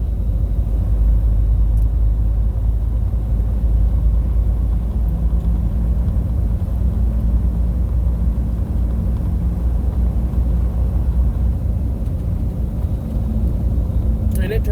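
A car driving on the interstate between Austin and Dallas gives a steady, loud low road rumble and engine drone that runs unbroken throughout.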